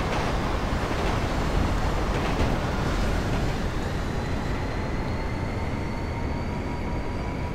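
A train passes in the video game GTA 5 Online, giving a steady, loud rolling rumble with faint high whining tones that holds evenly throughout, with no talking.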